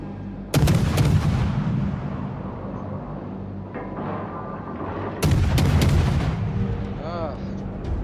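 Naval gunfire in the warship game World of Warships: two heavy booming salvos, one near the start and another midway, each rolling into a long rumble over steady engine and sea ambience.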